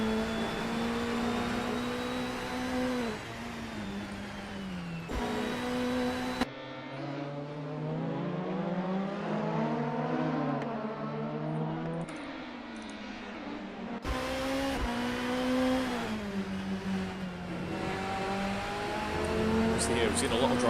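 Formula Alfa race cars lapping a circuit, engine whine rising and falling through gear changes, with a passing car and steady commentary talking over it throughout.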